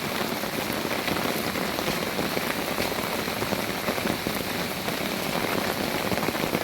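Heavy rain pours down outdoors, flooding the ground, a dense, steady hiss of drops hitting surfaces that stays loud and unbroken throughout, with no voices.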